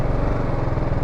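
A BMW G310 single-cylinder motorcycle engine idles nearby at a showroom, a steady low throbbing rumble with an even pulsing rhythm, fairly loud and continuous with no talk over it.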